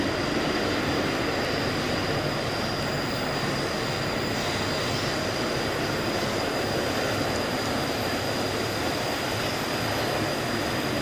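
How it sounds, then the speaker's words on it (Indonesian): A Pertamina tank train climbs an uphill track, rumbling steadily past, a dense continuous roar of wheels and engine with a faint high whine, loud and unbroken throughout. "Kereta api KTL Pertamina"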